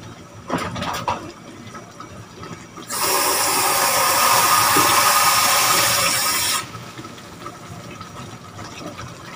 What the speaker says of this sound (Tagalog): Tapos, lagyan ko ng konting tubig.